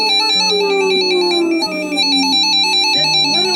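A RadioShack 12-257 radio powers on with a loud, bright electronic melody: a few sustained chiming tones that glide downward, then step to a new pitch near the end, heard alone without talk.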